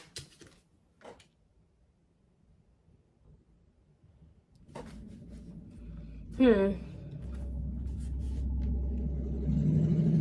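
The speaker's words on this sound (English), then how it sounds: "loud truck" A deep vehicle rumble builds and swells midway, a heavy engine drone growing louder and lingering, with a brief sharp squeal over it.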